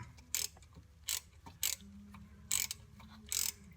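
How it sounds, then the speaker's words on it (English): A socket wrench ratchets while removing a part from the brake master cylinder of a 2000 Chevy Cavalier, giving five short bursts of rapid clicking with quiet pauses between them and no talk. "you may have to just use the socket to completely remove it"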